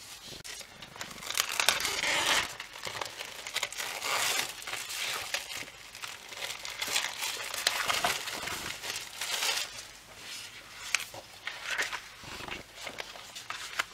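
Paper wrapping from a planner subscription kit is torn and crinkled open up close, with continuous rustling and ripping in uneven bursts throughout.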